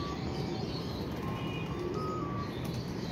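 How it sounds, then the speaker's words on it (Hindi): A pigeon coos softly over a murky background hum, the low calls blending into steady ambient noise. "नहीं जी दोस्तों ये कबूतर है"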